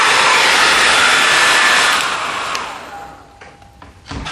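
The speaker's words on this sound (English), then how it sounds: "I'm just gonna take this hair dryer and put it across the whole thing." A hair dryer blows steadily across a painting with a loud broadband whoosh, then its airflow weakens and fades, ending with a few faint clicks and knocks.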